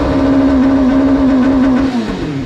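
A sportbike with a standalone ECU runs at a steady rev, its engine holding a loud, close drone that dips slightly near the end, with no talking.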